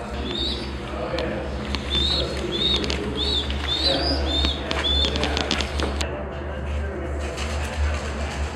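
Pigeons inside an abandoned nuclear missile silo give a string of short, repeated calls over a constant low mechanical hum, with faint voices in the background.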